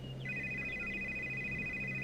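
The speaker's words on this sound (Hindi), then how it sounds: "कोकिला अपने खानदानी पंडित जी को फोन लगाती है।" A telephone rings as a call is placed, a steady electronic two-tone trill holding clear and fairly loud over a quiet room for about two seconds, with no speech.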